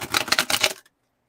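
Tarot cards shuffled in a quick riffling burst of crisp, papery flicks, close and loud, ending abruptly into silence.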